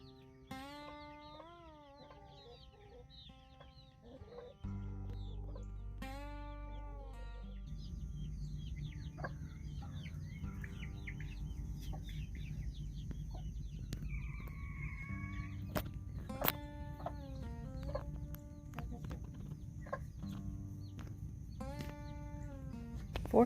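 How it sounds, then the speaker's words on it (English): Backyard homestead chickens with their chicks cluck and call intermittently up close, a mix of short clucks and rising chirps over a steady low background of wind. "A lot of the other chickens have gone in there"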